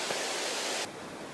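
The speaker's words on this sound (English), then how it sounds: "That sound you hear is not a waterfall, that's the wind" Strong wind roaring near a snowy mountain summit, a loud, steady broadband rush that drops abruptly to a quieter hiss partway through.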